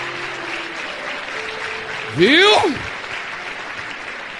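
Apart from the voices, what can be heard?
applause from a church congregation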